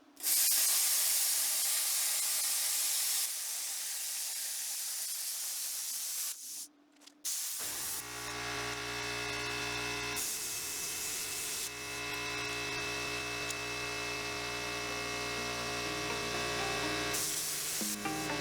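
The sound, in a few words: plasma cutter trimming metal on Dana 60 axle kingpin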